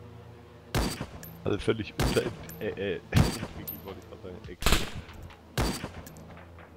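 Video game gunshots from a scoped rifle: about five loud, widely spaced single reports, each sharp and close, with players talking in German between them.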